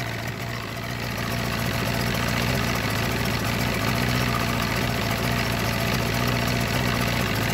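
A warmed-up 1999 Force 120 outboard motor on a Bayliner idles evenly and close, a continuous steady hum with no other sounds.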